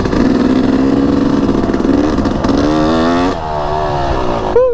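A Yamaha YZ250X two-stroke dirt bike engine revs hard and close, its buzzing pitch climbing and falling through repeated throttle blips, loud and steady with no voices.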